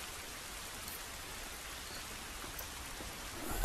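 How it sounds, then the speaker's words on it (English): Steady rain hisses evenly throughout inside The Last of Us video game, a dense, constant wash of falling drops that swells slightly louder at the very end, with no voices. "Is it still raining outside?"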